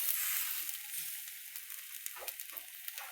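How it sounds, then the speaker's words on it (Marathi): Mutton masala roasts in a pan with a quiet, crackling sizzle, broken by several light stirring scrapes and taps close by. "मटण मसाला ते सगळं भाजायचं बरं का. असं भाजू दे."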